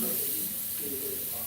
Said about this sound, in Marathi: मी आता हा कांदा चांगला भाजून घेणार आहे.